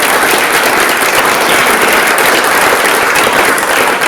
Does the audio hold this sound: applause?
yes